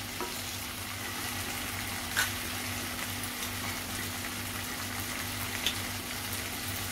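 Chopped onion and tomato fry in hot oil in a pan for Indian chole, a steady close sizzle and crackle with a couple of faint clinks, no voices.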